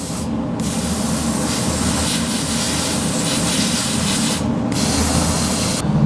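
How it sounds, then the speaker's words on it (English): Aerosol Mopar rust-proofing spray hissing continuously onto a vehicle's battery terminals under the hood, a steady loud close hiss with brief pauses where the nozzle is released. "I also like to spray the battery terminals"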